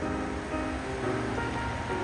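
Ocean surf at an early-morning surf spot washes in a continuous, dense hiss and rumble, a steady wash of breaking waves with no voices over it.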